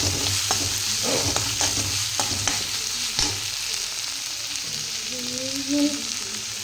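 Tomatoes fry in a pan for mutton sukka, with a soft continuous sizzle and a run of sharp spoon scrapes and taps as they are stirred. A brief faint squeal comes near the end.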